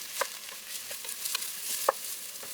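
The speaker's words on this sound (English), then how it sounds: "you are now going to add 3 cups of sliced okras" Three cups of sliced okra go into a pot of sautéing Trinidad-style okra and rice, producing soft scattered patters, light clinks and a low sizzle, fairly quiet with no voices.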